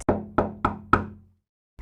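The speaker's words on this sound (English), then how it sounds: "He knocked on the door and listened." Four firm knocks on a wooden cottage door, evenly spaced and close, each ringing briefly before a short silence.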